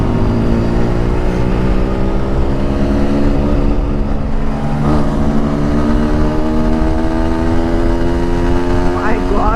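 A motorcycle engine rumbles steadily up close with a droning idle, and people talk over it.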